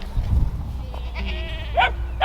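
Excited Kiko goats bleat before feeding, with several wavering calls close by over rustling and shuffling noise.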